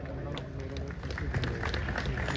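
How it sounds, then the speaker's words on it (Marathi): A bodybuilding contest audience in the 70 kg group claps steadily for a contestant, a dense moderate patter of applause mixed with crowd murmur. "तुम्ही देखील मेहनत करून जरा टाळ्या वाजवा"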